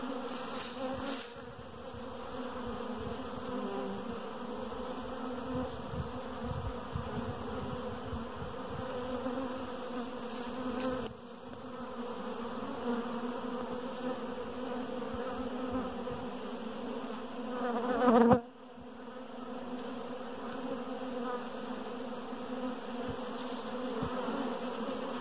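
A swarm of honeybees headed by two queens fills the air with a continuous, steady buzzing hum, close and even in level, with only slight swells over the length of the clip.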